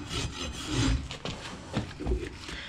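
A steel rasp scrapes rhythmically across a pony's hoof during a barefoot maintenance trim, with several close, gritty strokes following one another.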